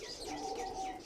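Ring bird pigeon of the churail breed cooing softly in a brief low murmur, faint and close, over a light background hiss.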